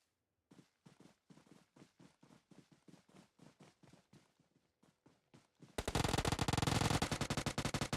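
Rapid SMG gunfire in the mobile battle royale game PUBG Mobile during a women's pro league match: a steady run of sharp single shots, then a dense, loud sustained burst for the final two seconds.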